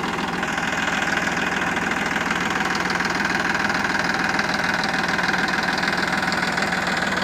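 A Massey Ferguson 9500 Smart tractor drives in first gear, its diesel engine running in a steady, loud, even knocking drone for the whole stretch, close by with no pauses.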